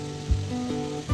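Chicken pieces sizzling in a wok with salt and pepper, a soft, steady frying hiss over about a second with a couple of low stirring thumps.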